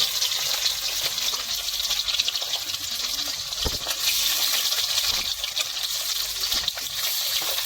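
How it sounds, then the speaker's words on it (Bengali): Pangas fish pieces hiss and sizzle in hot oil in a wok, a dense continuous frying crackle close to the pan, with one sharp clink of metal partway through and no talking. "এবারটা মাছগুলোর এক এক করে দিয়ে হালকা করে ভাজে নিতে হবে"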